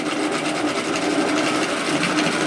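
A sewing machine steadily hums and rattles while edge stitching around the top of an unlined fabric shopping tote, close and continuous with no pauses.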